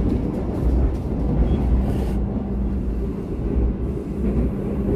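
Pangandaran passenger train running straight through Karangpucung station without stopping, a loud steady low rumble of wheels and carriage noise throughout, with brief wind buffeting near the start.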